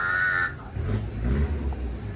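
A rooster named Wok crows in the background in the Philippines. One loud, raspy cry is heard at the start and cuts off quickly, followed by low rumbling noise.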